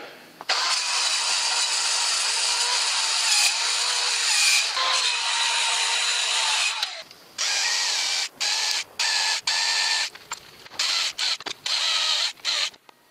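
A restored vertical band saw runs and cuts wood, first as a long steady whine, then in short repeated bursts as the blade is fed in and stopped again.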